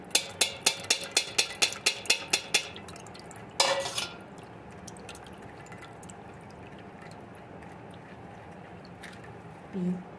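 Turmeric juice for pickle is strained, opening with a quick run of about a dozen sharp, evenly spaced ticks and taps, then a louder clatter and a low wet hum, with a soft slosh near the end.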